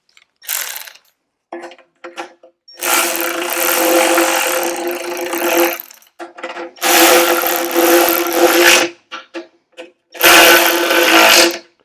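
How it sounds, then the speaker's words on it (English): Ratchet on 10 mm bolts of a vintage Honda CT70 under restoration in a garage, heard as several long bursts of rapid close clicking separated by brief pauses and a few short clicks, with no talk. "I'll ratchet them down"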